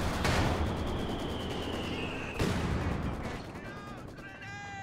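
Soviet mortar fire in the Company of Heroes 2 war game lands as two heavy booming impacts, one right at the start and another midway, over a dense rumble of distant battle noise.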